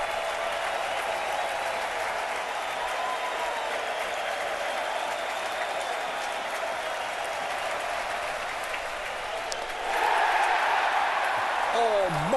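Steady roar of a packed, standing-room-only crowd at a Pirates vs. Reds NL Wild Card baseball game in 2013, cheering continuously with a commentator talking over it and a swell of noise near the end.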